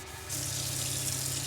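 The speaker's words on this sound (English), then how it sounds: "since I have running water, before I got to cooking, I wanted to get my dishes done" Sink tap in a camper van opening to a steady rush of running water for washing dishes, close and fairly quiet, continuous after a brief start with no talking.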